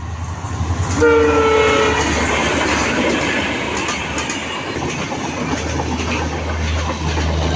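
A train passes through Barigram railway station. Its horn sounds early, then the loud, close rumble and clatter of the wagons runs continuously to the end.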